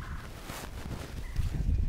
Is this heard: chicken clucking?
yes